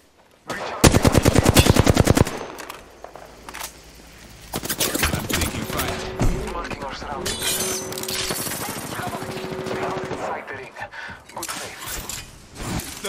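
Rapid automatic gunfire from an Apex Legends match, a loud fast burst of shots followed by more chattering fire, impacts and game effects, with players talking over the action.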